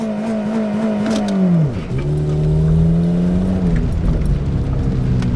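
Toyota Corolla running on vodka-laced fuel swinging through an experimental J-turn, engine note dropping sharply as it reverses and shifts, then climbing again into a steady drone, loud and close with no talk.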